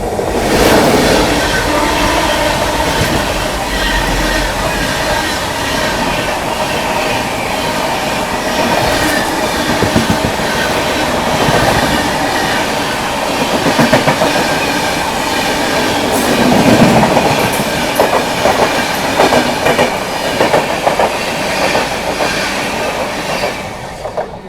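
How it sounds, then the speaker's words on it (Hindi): The Barmer Howrah Superfast Express thunders past at close range, a long loud rumble of wagons with rhythmic wheel clatter and some squealing, sustained and unbroken. "अभी गई बाड़मेर हावड़ा सुपरफास्ट एक्सप्रेस"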